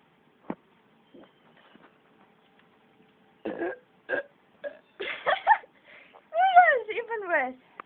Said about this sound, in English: I started burping.